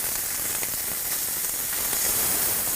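Loud, dense sizzling of chicken frying on high heat, with a constant bright crackle and scattered pops throughout.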